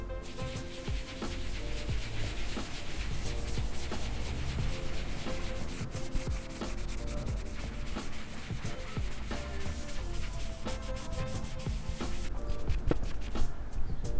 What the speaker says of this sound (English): I didn't even have to rub it hard and it came off